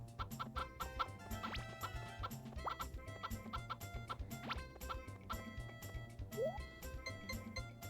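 Chickens clucking in the Nintendo 64 farming game Harvest Moon 64, a steady run of short, rhythmic game-style clucks over looping background music, quiet and continuous with no talk.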